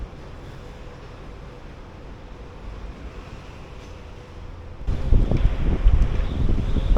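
Steady wind noise blows across the microphone outdoors at Clarence Pier, a seaside amusement pier, with a broad rumbling roar that grows louder and gustier near the end.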